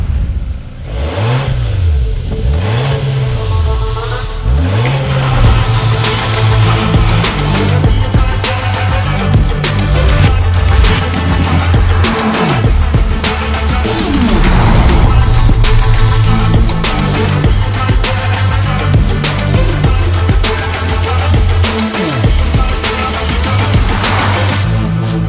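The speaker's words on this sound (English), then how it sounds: "This is the 2023 Volvo XC60 Recharge." A 2023 Volvo XC60 Recharge plug-in hybrid accelerates hard in several loud pulls, the engine note sweeping up and dropping with each gear change, then settles into a steady drone.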